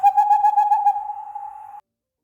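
An owl gives one continuous hoot, a steady, clear tone that warbles slightly at first and then holds even before stopping abruptly, close and alone with no speech.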